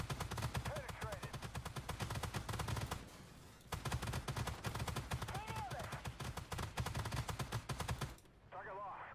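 Rapid bursts of autocannon fire from the turret of a BVP M-80A infantry fighting vehicle in a live tank combat video game, loud and sustained with brief pauses, joined by short engine or effect sounds near the end.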